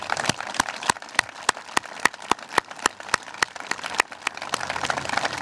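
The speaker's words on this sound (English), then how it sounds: "So let's give them applause, please." Sharp, evenly spaced claps ring out in a steady beat over a low crowd murmur at a ceremony welcoming the Wall that Heals memorial to Plymouth.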